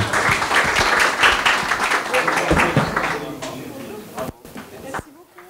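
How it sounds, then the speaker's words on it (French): Conference attendees applaud the speakers once more, a broad wash of clapping with murmured voices that thins out and trails off, leaving scattered handling noises near the end. "je vous demande d'applaudir nos intervenants encore une fois"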